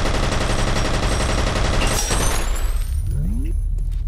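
Gunfire in the first-person shooter F.E.A.R.: dense, loud rapid-fire shots and booming impacts in a continuous barrage that cuts off abruptly, leaving a fading rumble with a voice in the background.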